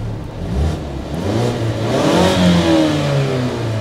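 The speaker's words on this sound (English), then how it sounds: "let's give one last rev" A 2019 Mazda 3 G25 Astina hatchback in sport mode revs its engine up to a loud, rising whine and holds there, close and alone.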